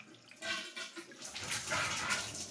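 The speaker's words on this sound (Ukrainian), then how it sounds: "А, то я ще крана там відкрив. Зараз закрию." Water running from an open tap during a main-line water filter setup, a splashing, hissing flow that starts softly and swells louder, continuing steadily to the end.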